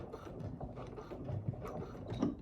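Sewing machine stitching in reverse over a stitch line on a pet collar, a quiet rapid mechanical clatter running alone close by.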